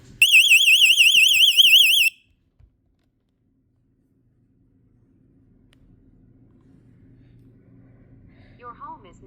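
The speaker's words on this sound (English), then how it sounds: "Your alarm was triggered by main. Garage. Door." A Vivint house alarm system sounds after a garage door is opened, a loud warbling electronic siren for about two seconds that cuts off abruptly, followed by near silence and then faint room noise and a brief voice.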